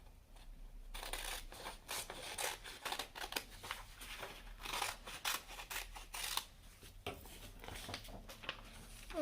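Scissors snip steadily through folded scrap paper for a paper snowflake project, a dense run of close, crisp cuts and rustles with a brief pause near the end.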